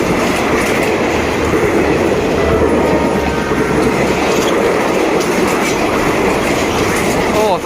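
Express train 172 on double track near Ban Bang Li, Ratchaburi, passes close and loud at speed, a steady rolling roar with clickety-clack wheel rhythm and faint squeal filling the whole stretch without pause.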